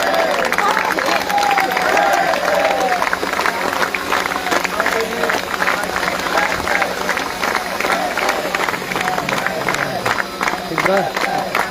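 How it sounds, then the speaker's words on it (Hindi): Dense, sustained applause from a large crowd at an Indian festival event, steady and loud throughout, with voices and cheering mixed into the clapping. "आगे से पीछे तक तालियां इसी तरह बजते रहे"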